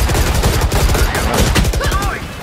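Rapid bursts of gunfire crackle continuously, loud and close, like automatic weapons, in the shooter game Valorant on the map Breeze, with a few brief voice fragments mixed in.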